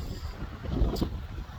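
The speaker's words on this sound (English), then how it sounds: "it's way too windy out here today" Strong outdoor wind, around 25 miles per hour, buffets the microphone at a roadside rally in Port Charlotte, a steady low rumble with gusty swells through the short stretch.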